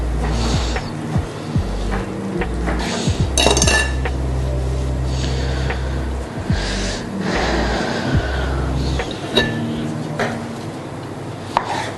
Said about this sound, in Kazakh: Пісіп тұрған курине филемізді осылай кесіп алып, тарелкамызге осылай қоямыз.